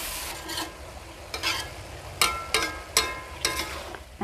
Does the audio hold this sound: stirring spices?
yes